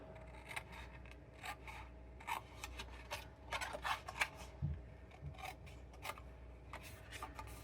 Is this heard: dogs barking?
no